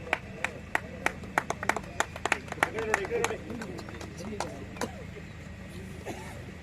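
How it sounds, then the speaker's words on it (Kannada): Scattered, uneven hand claps from an audience at a cricket tournament ceremony for the Rana Trophy in Sagara, sharp and fairly near, rising into a brief denser patch midway, under someone speaking over a crowd. "ದಯಮಾಡಿ ಎಲ್ಲ ಚಪ್ಪಾಳೆ ನೀಡಬೇಕಾಗಿ ಕೇಳ್ಕೊಳ್ತಾ ಇದ್ದೇವೆ"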